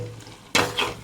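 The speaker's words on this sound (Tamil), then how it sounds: "வதக்கி தான் போடணும், அப்போ தான் நல்லாயிருக்கும் தேங்காய் திருவி." Freshly grated coconut sautés in a pan for a spicy tamarind curry, a quiet stir and scrape followed by a sudden burst of sizzling and frying that rises again near the end.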